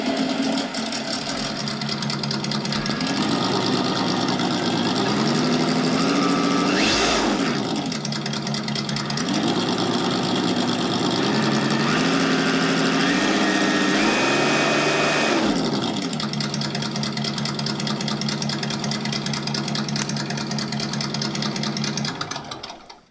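A Traxxas TRX-4 RC truck's ESS dual sound system plays a simulated engine: a steady buzzy electronic hum that rises in two sharp revs before dropping back to an even idle, heard alone.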